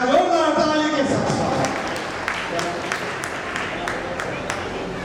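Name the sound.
applause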